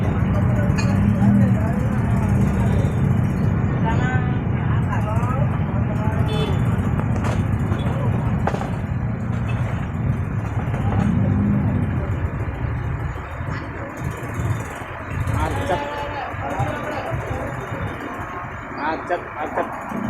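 Congested road traffic on Jalan Kasari in Palembang, with many motorbikes and cars crawling past roadside vendors: a dense, steady rumble of idling and revving engines close by, with a voice talking over it.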